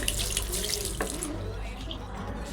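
Water runs steadily from a tap into a sink while a face pack is washed off, making a close, full splashing rush with faint voices in the background.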